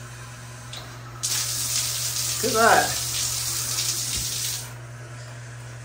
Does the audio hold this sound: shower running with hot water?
yes